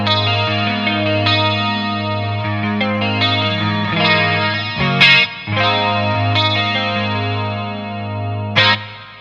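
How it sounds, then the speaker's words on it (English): Clean guitar tone through an amp with reverb and chorus, sustained shimmering chords ringing out loud and alone, with a few sharper strums and a dreamy washed-out tail. "let's try some reverb and chorus, just for fun."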